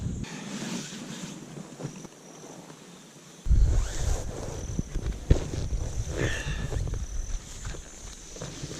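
Steady wind blowing across an uninhabited island beach campsite, with surf rumbling nearby; a quiet stretch gives way to louder gusts and buffeting noise that continue to the end, with no talking.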